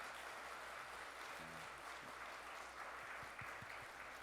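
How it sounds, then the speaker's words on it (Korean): Church congregation clapping together at a Sunday worship service, a steady wash of applause that holds through the clip at moderate distance, with a few faint low thumps near the end. "하나님께 영광의 박수 올려드리도록 하겠습니다"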